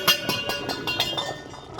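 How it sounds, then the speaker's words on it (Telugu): Dishes and pots clatter outside as children drop them, a rapid run of sharp metallic clinks and bangs, fairly near and loud at first, then trailing off. "మా పిల్లలు బయట సౌండ్లు చేస్తున్నారు, గిన్నెలు పడేస్తున్నారు"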